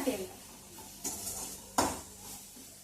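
Grated coconut being dry-roasted in a pan while it is stirred, a faint sizzle with soft scraping and three distinct sharp clinks of a utensil against the pan, quiet and close.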